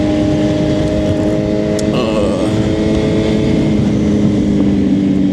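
A Suzuki GSX-R 750 motorcycle engine holds a loud, steady droning hum while riding, with strong sustained tones and a brief bump around the two-second mark.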